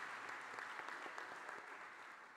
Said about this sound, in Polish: wszyscy też wyrazimy oklaskami podziękowanie